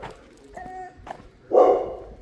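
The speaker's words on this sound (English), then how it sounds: "There's a barking doggy." A dog barks somewhere out of sight near a cafe on a walk, a few short faint yips followed by one louder bark.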